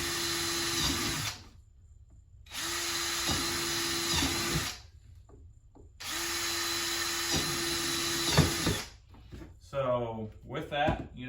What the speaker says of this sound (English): just keep drilling some holes